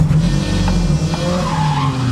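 A 1990s JDM JTCC touring race car fires up on the key, loud and close, settling into a rough, rumbling idle with a shifting higher tone over it.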